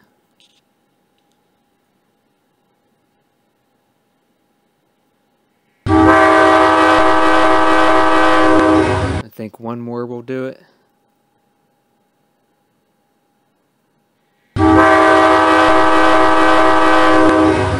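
Custom horn sound for an MTH Proto-Sound 2 and 3 model locomotive, sounding as two loud sustained multi-tone blasts with a short burst of talk between them.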